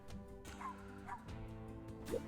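Game dogs in UnderMine bark and yip in short bursts over steady background music, a few quick yaps spaced through the stretch.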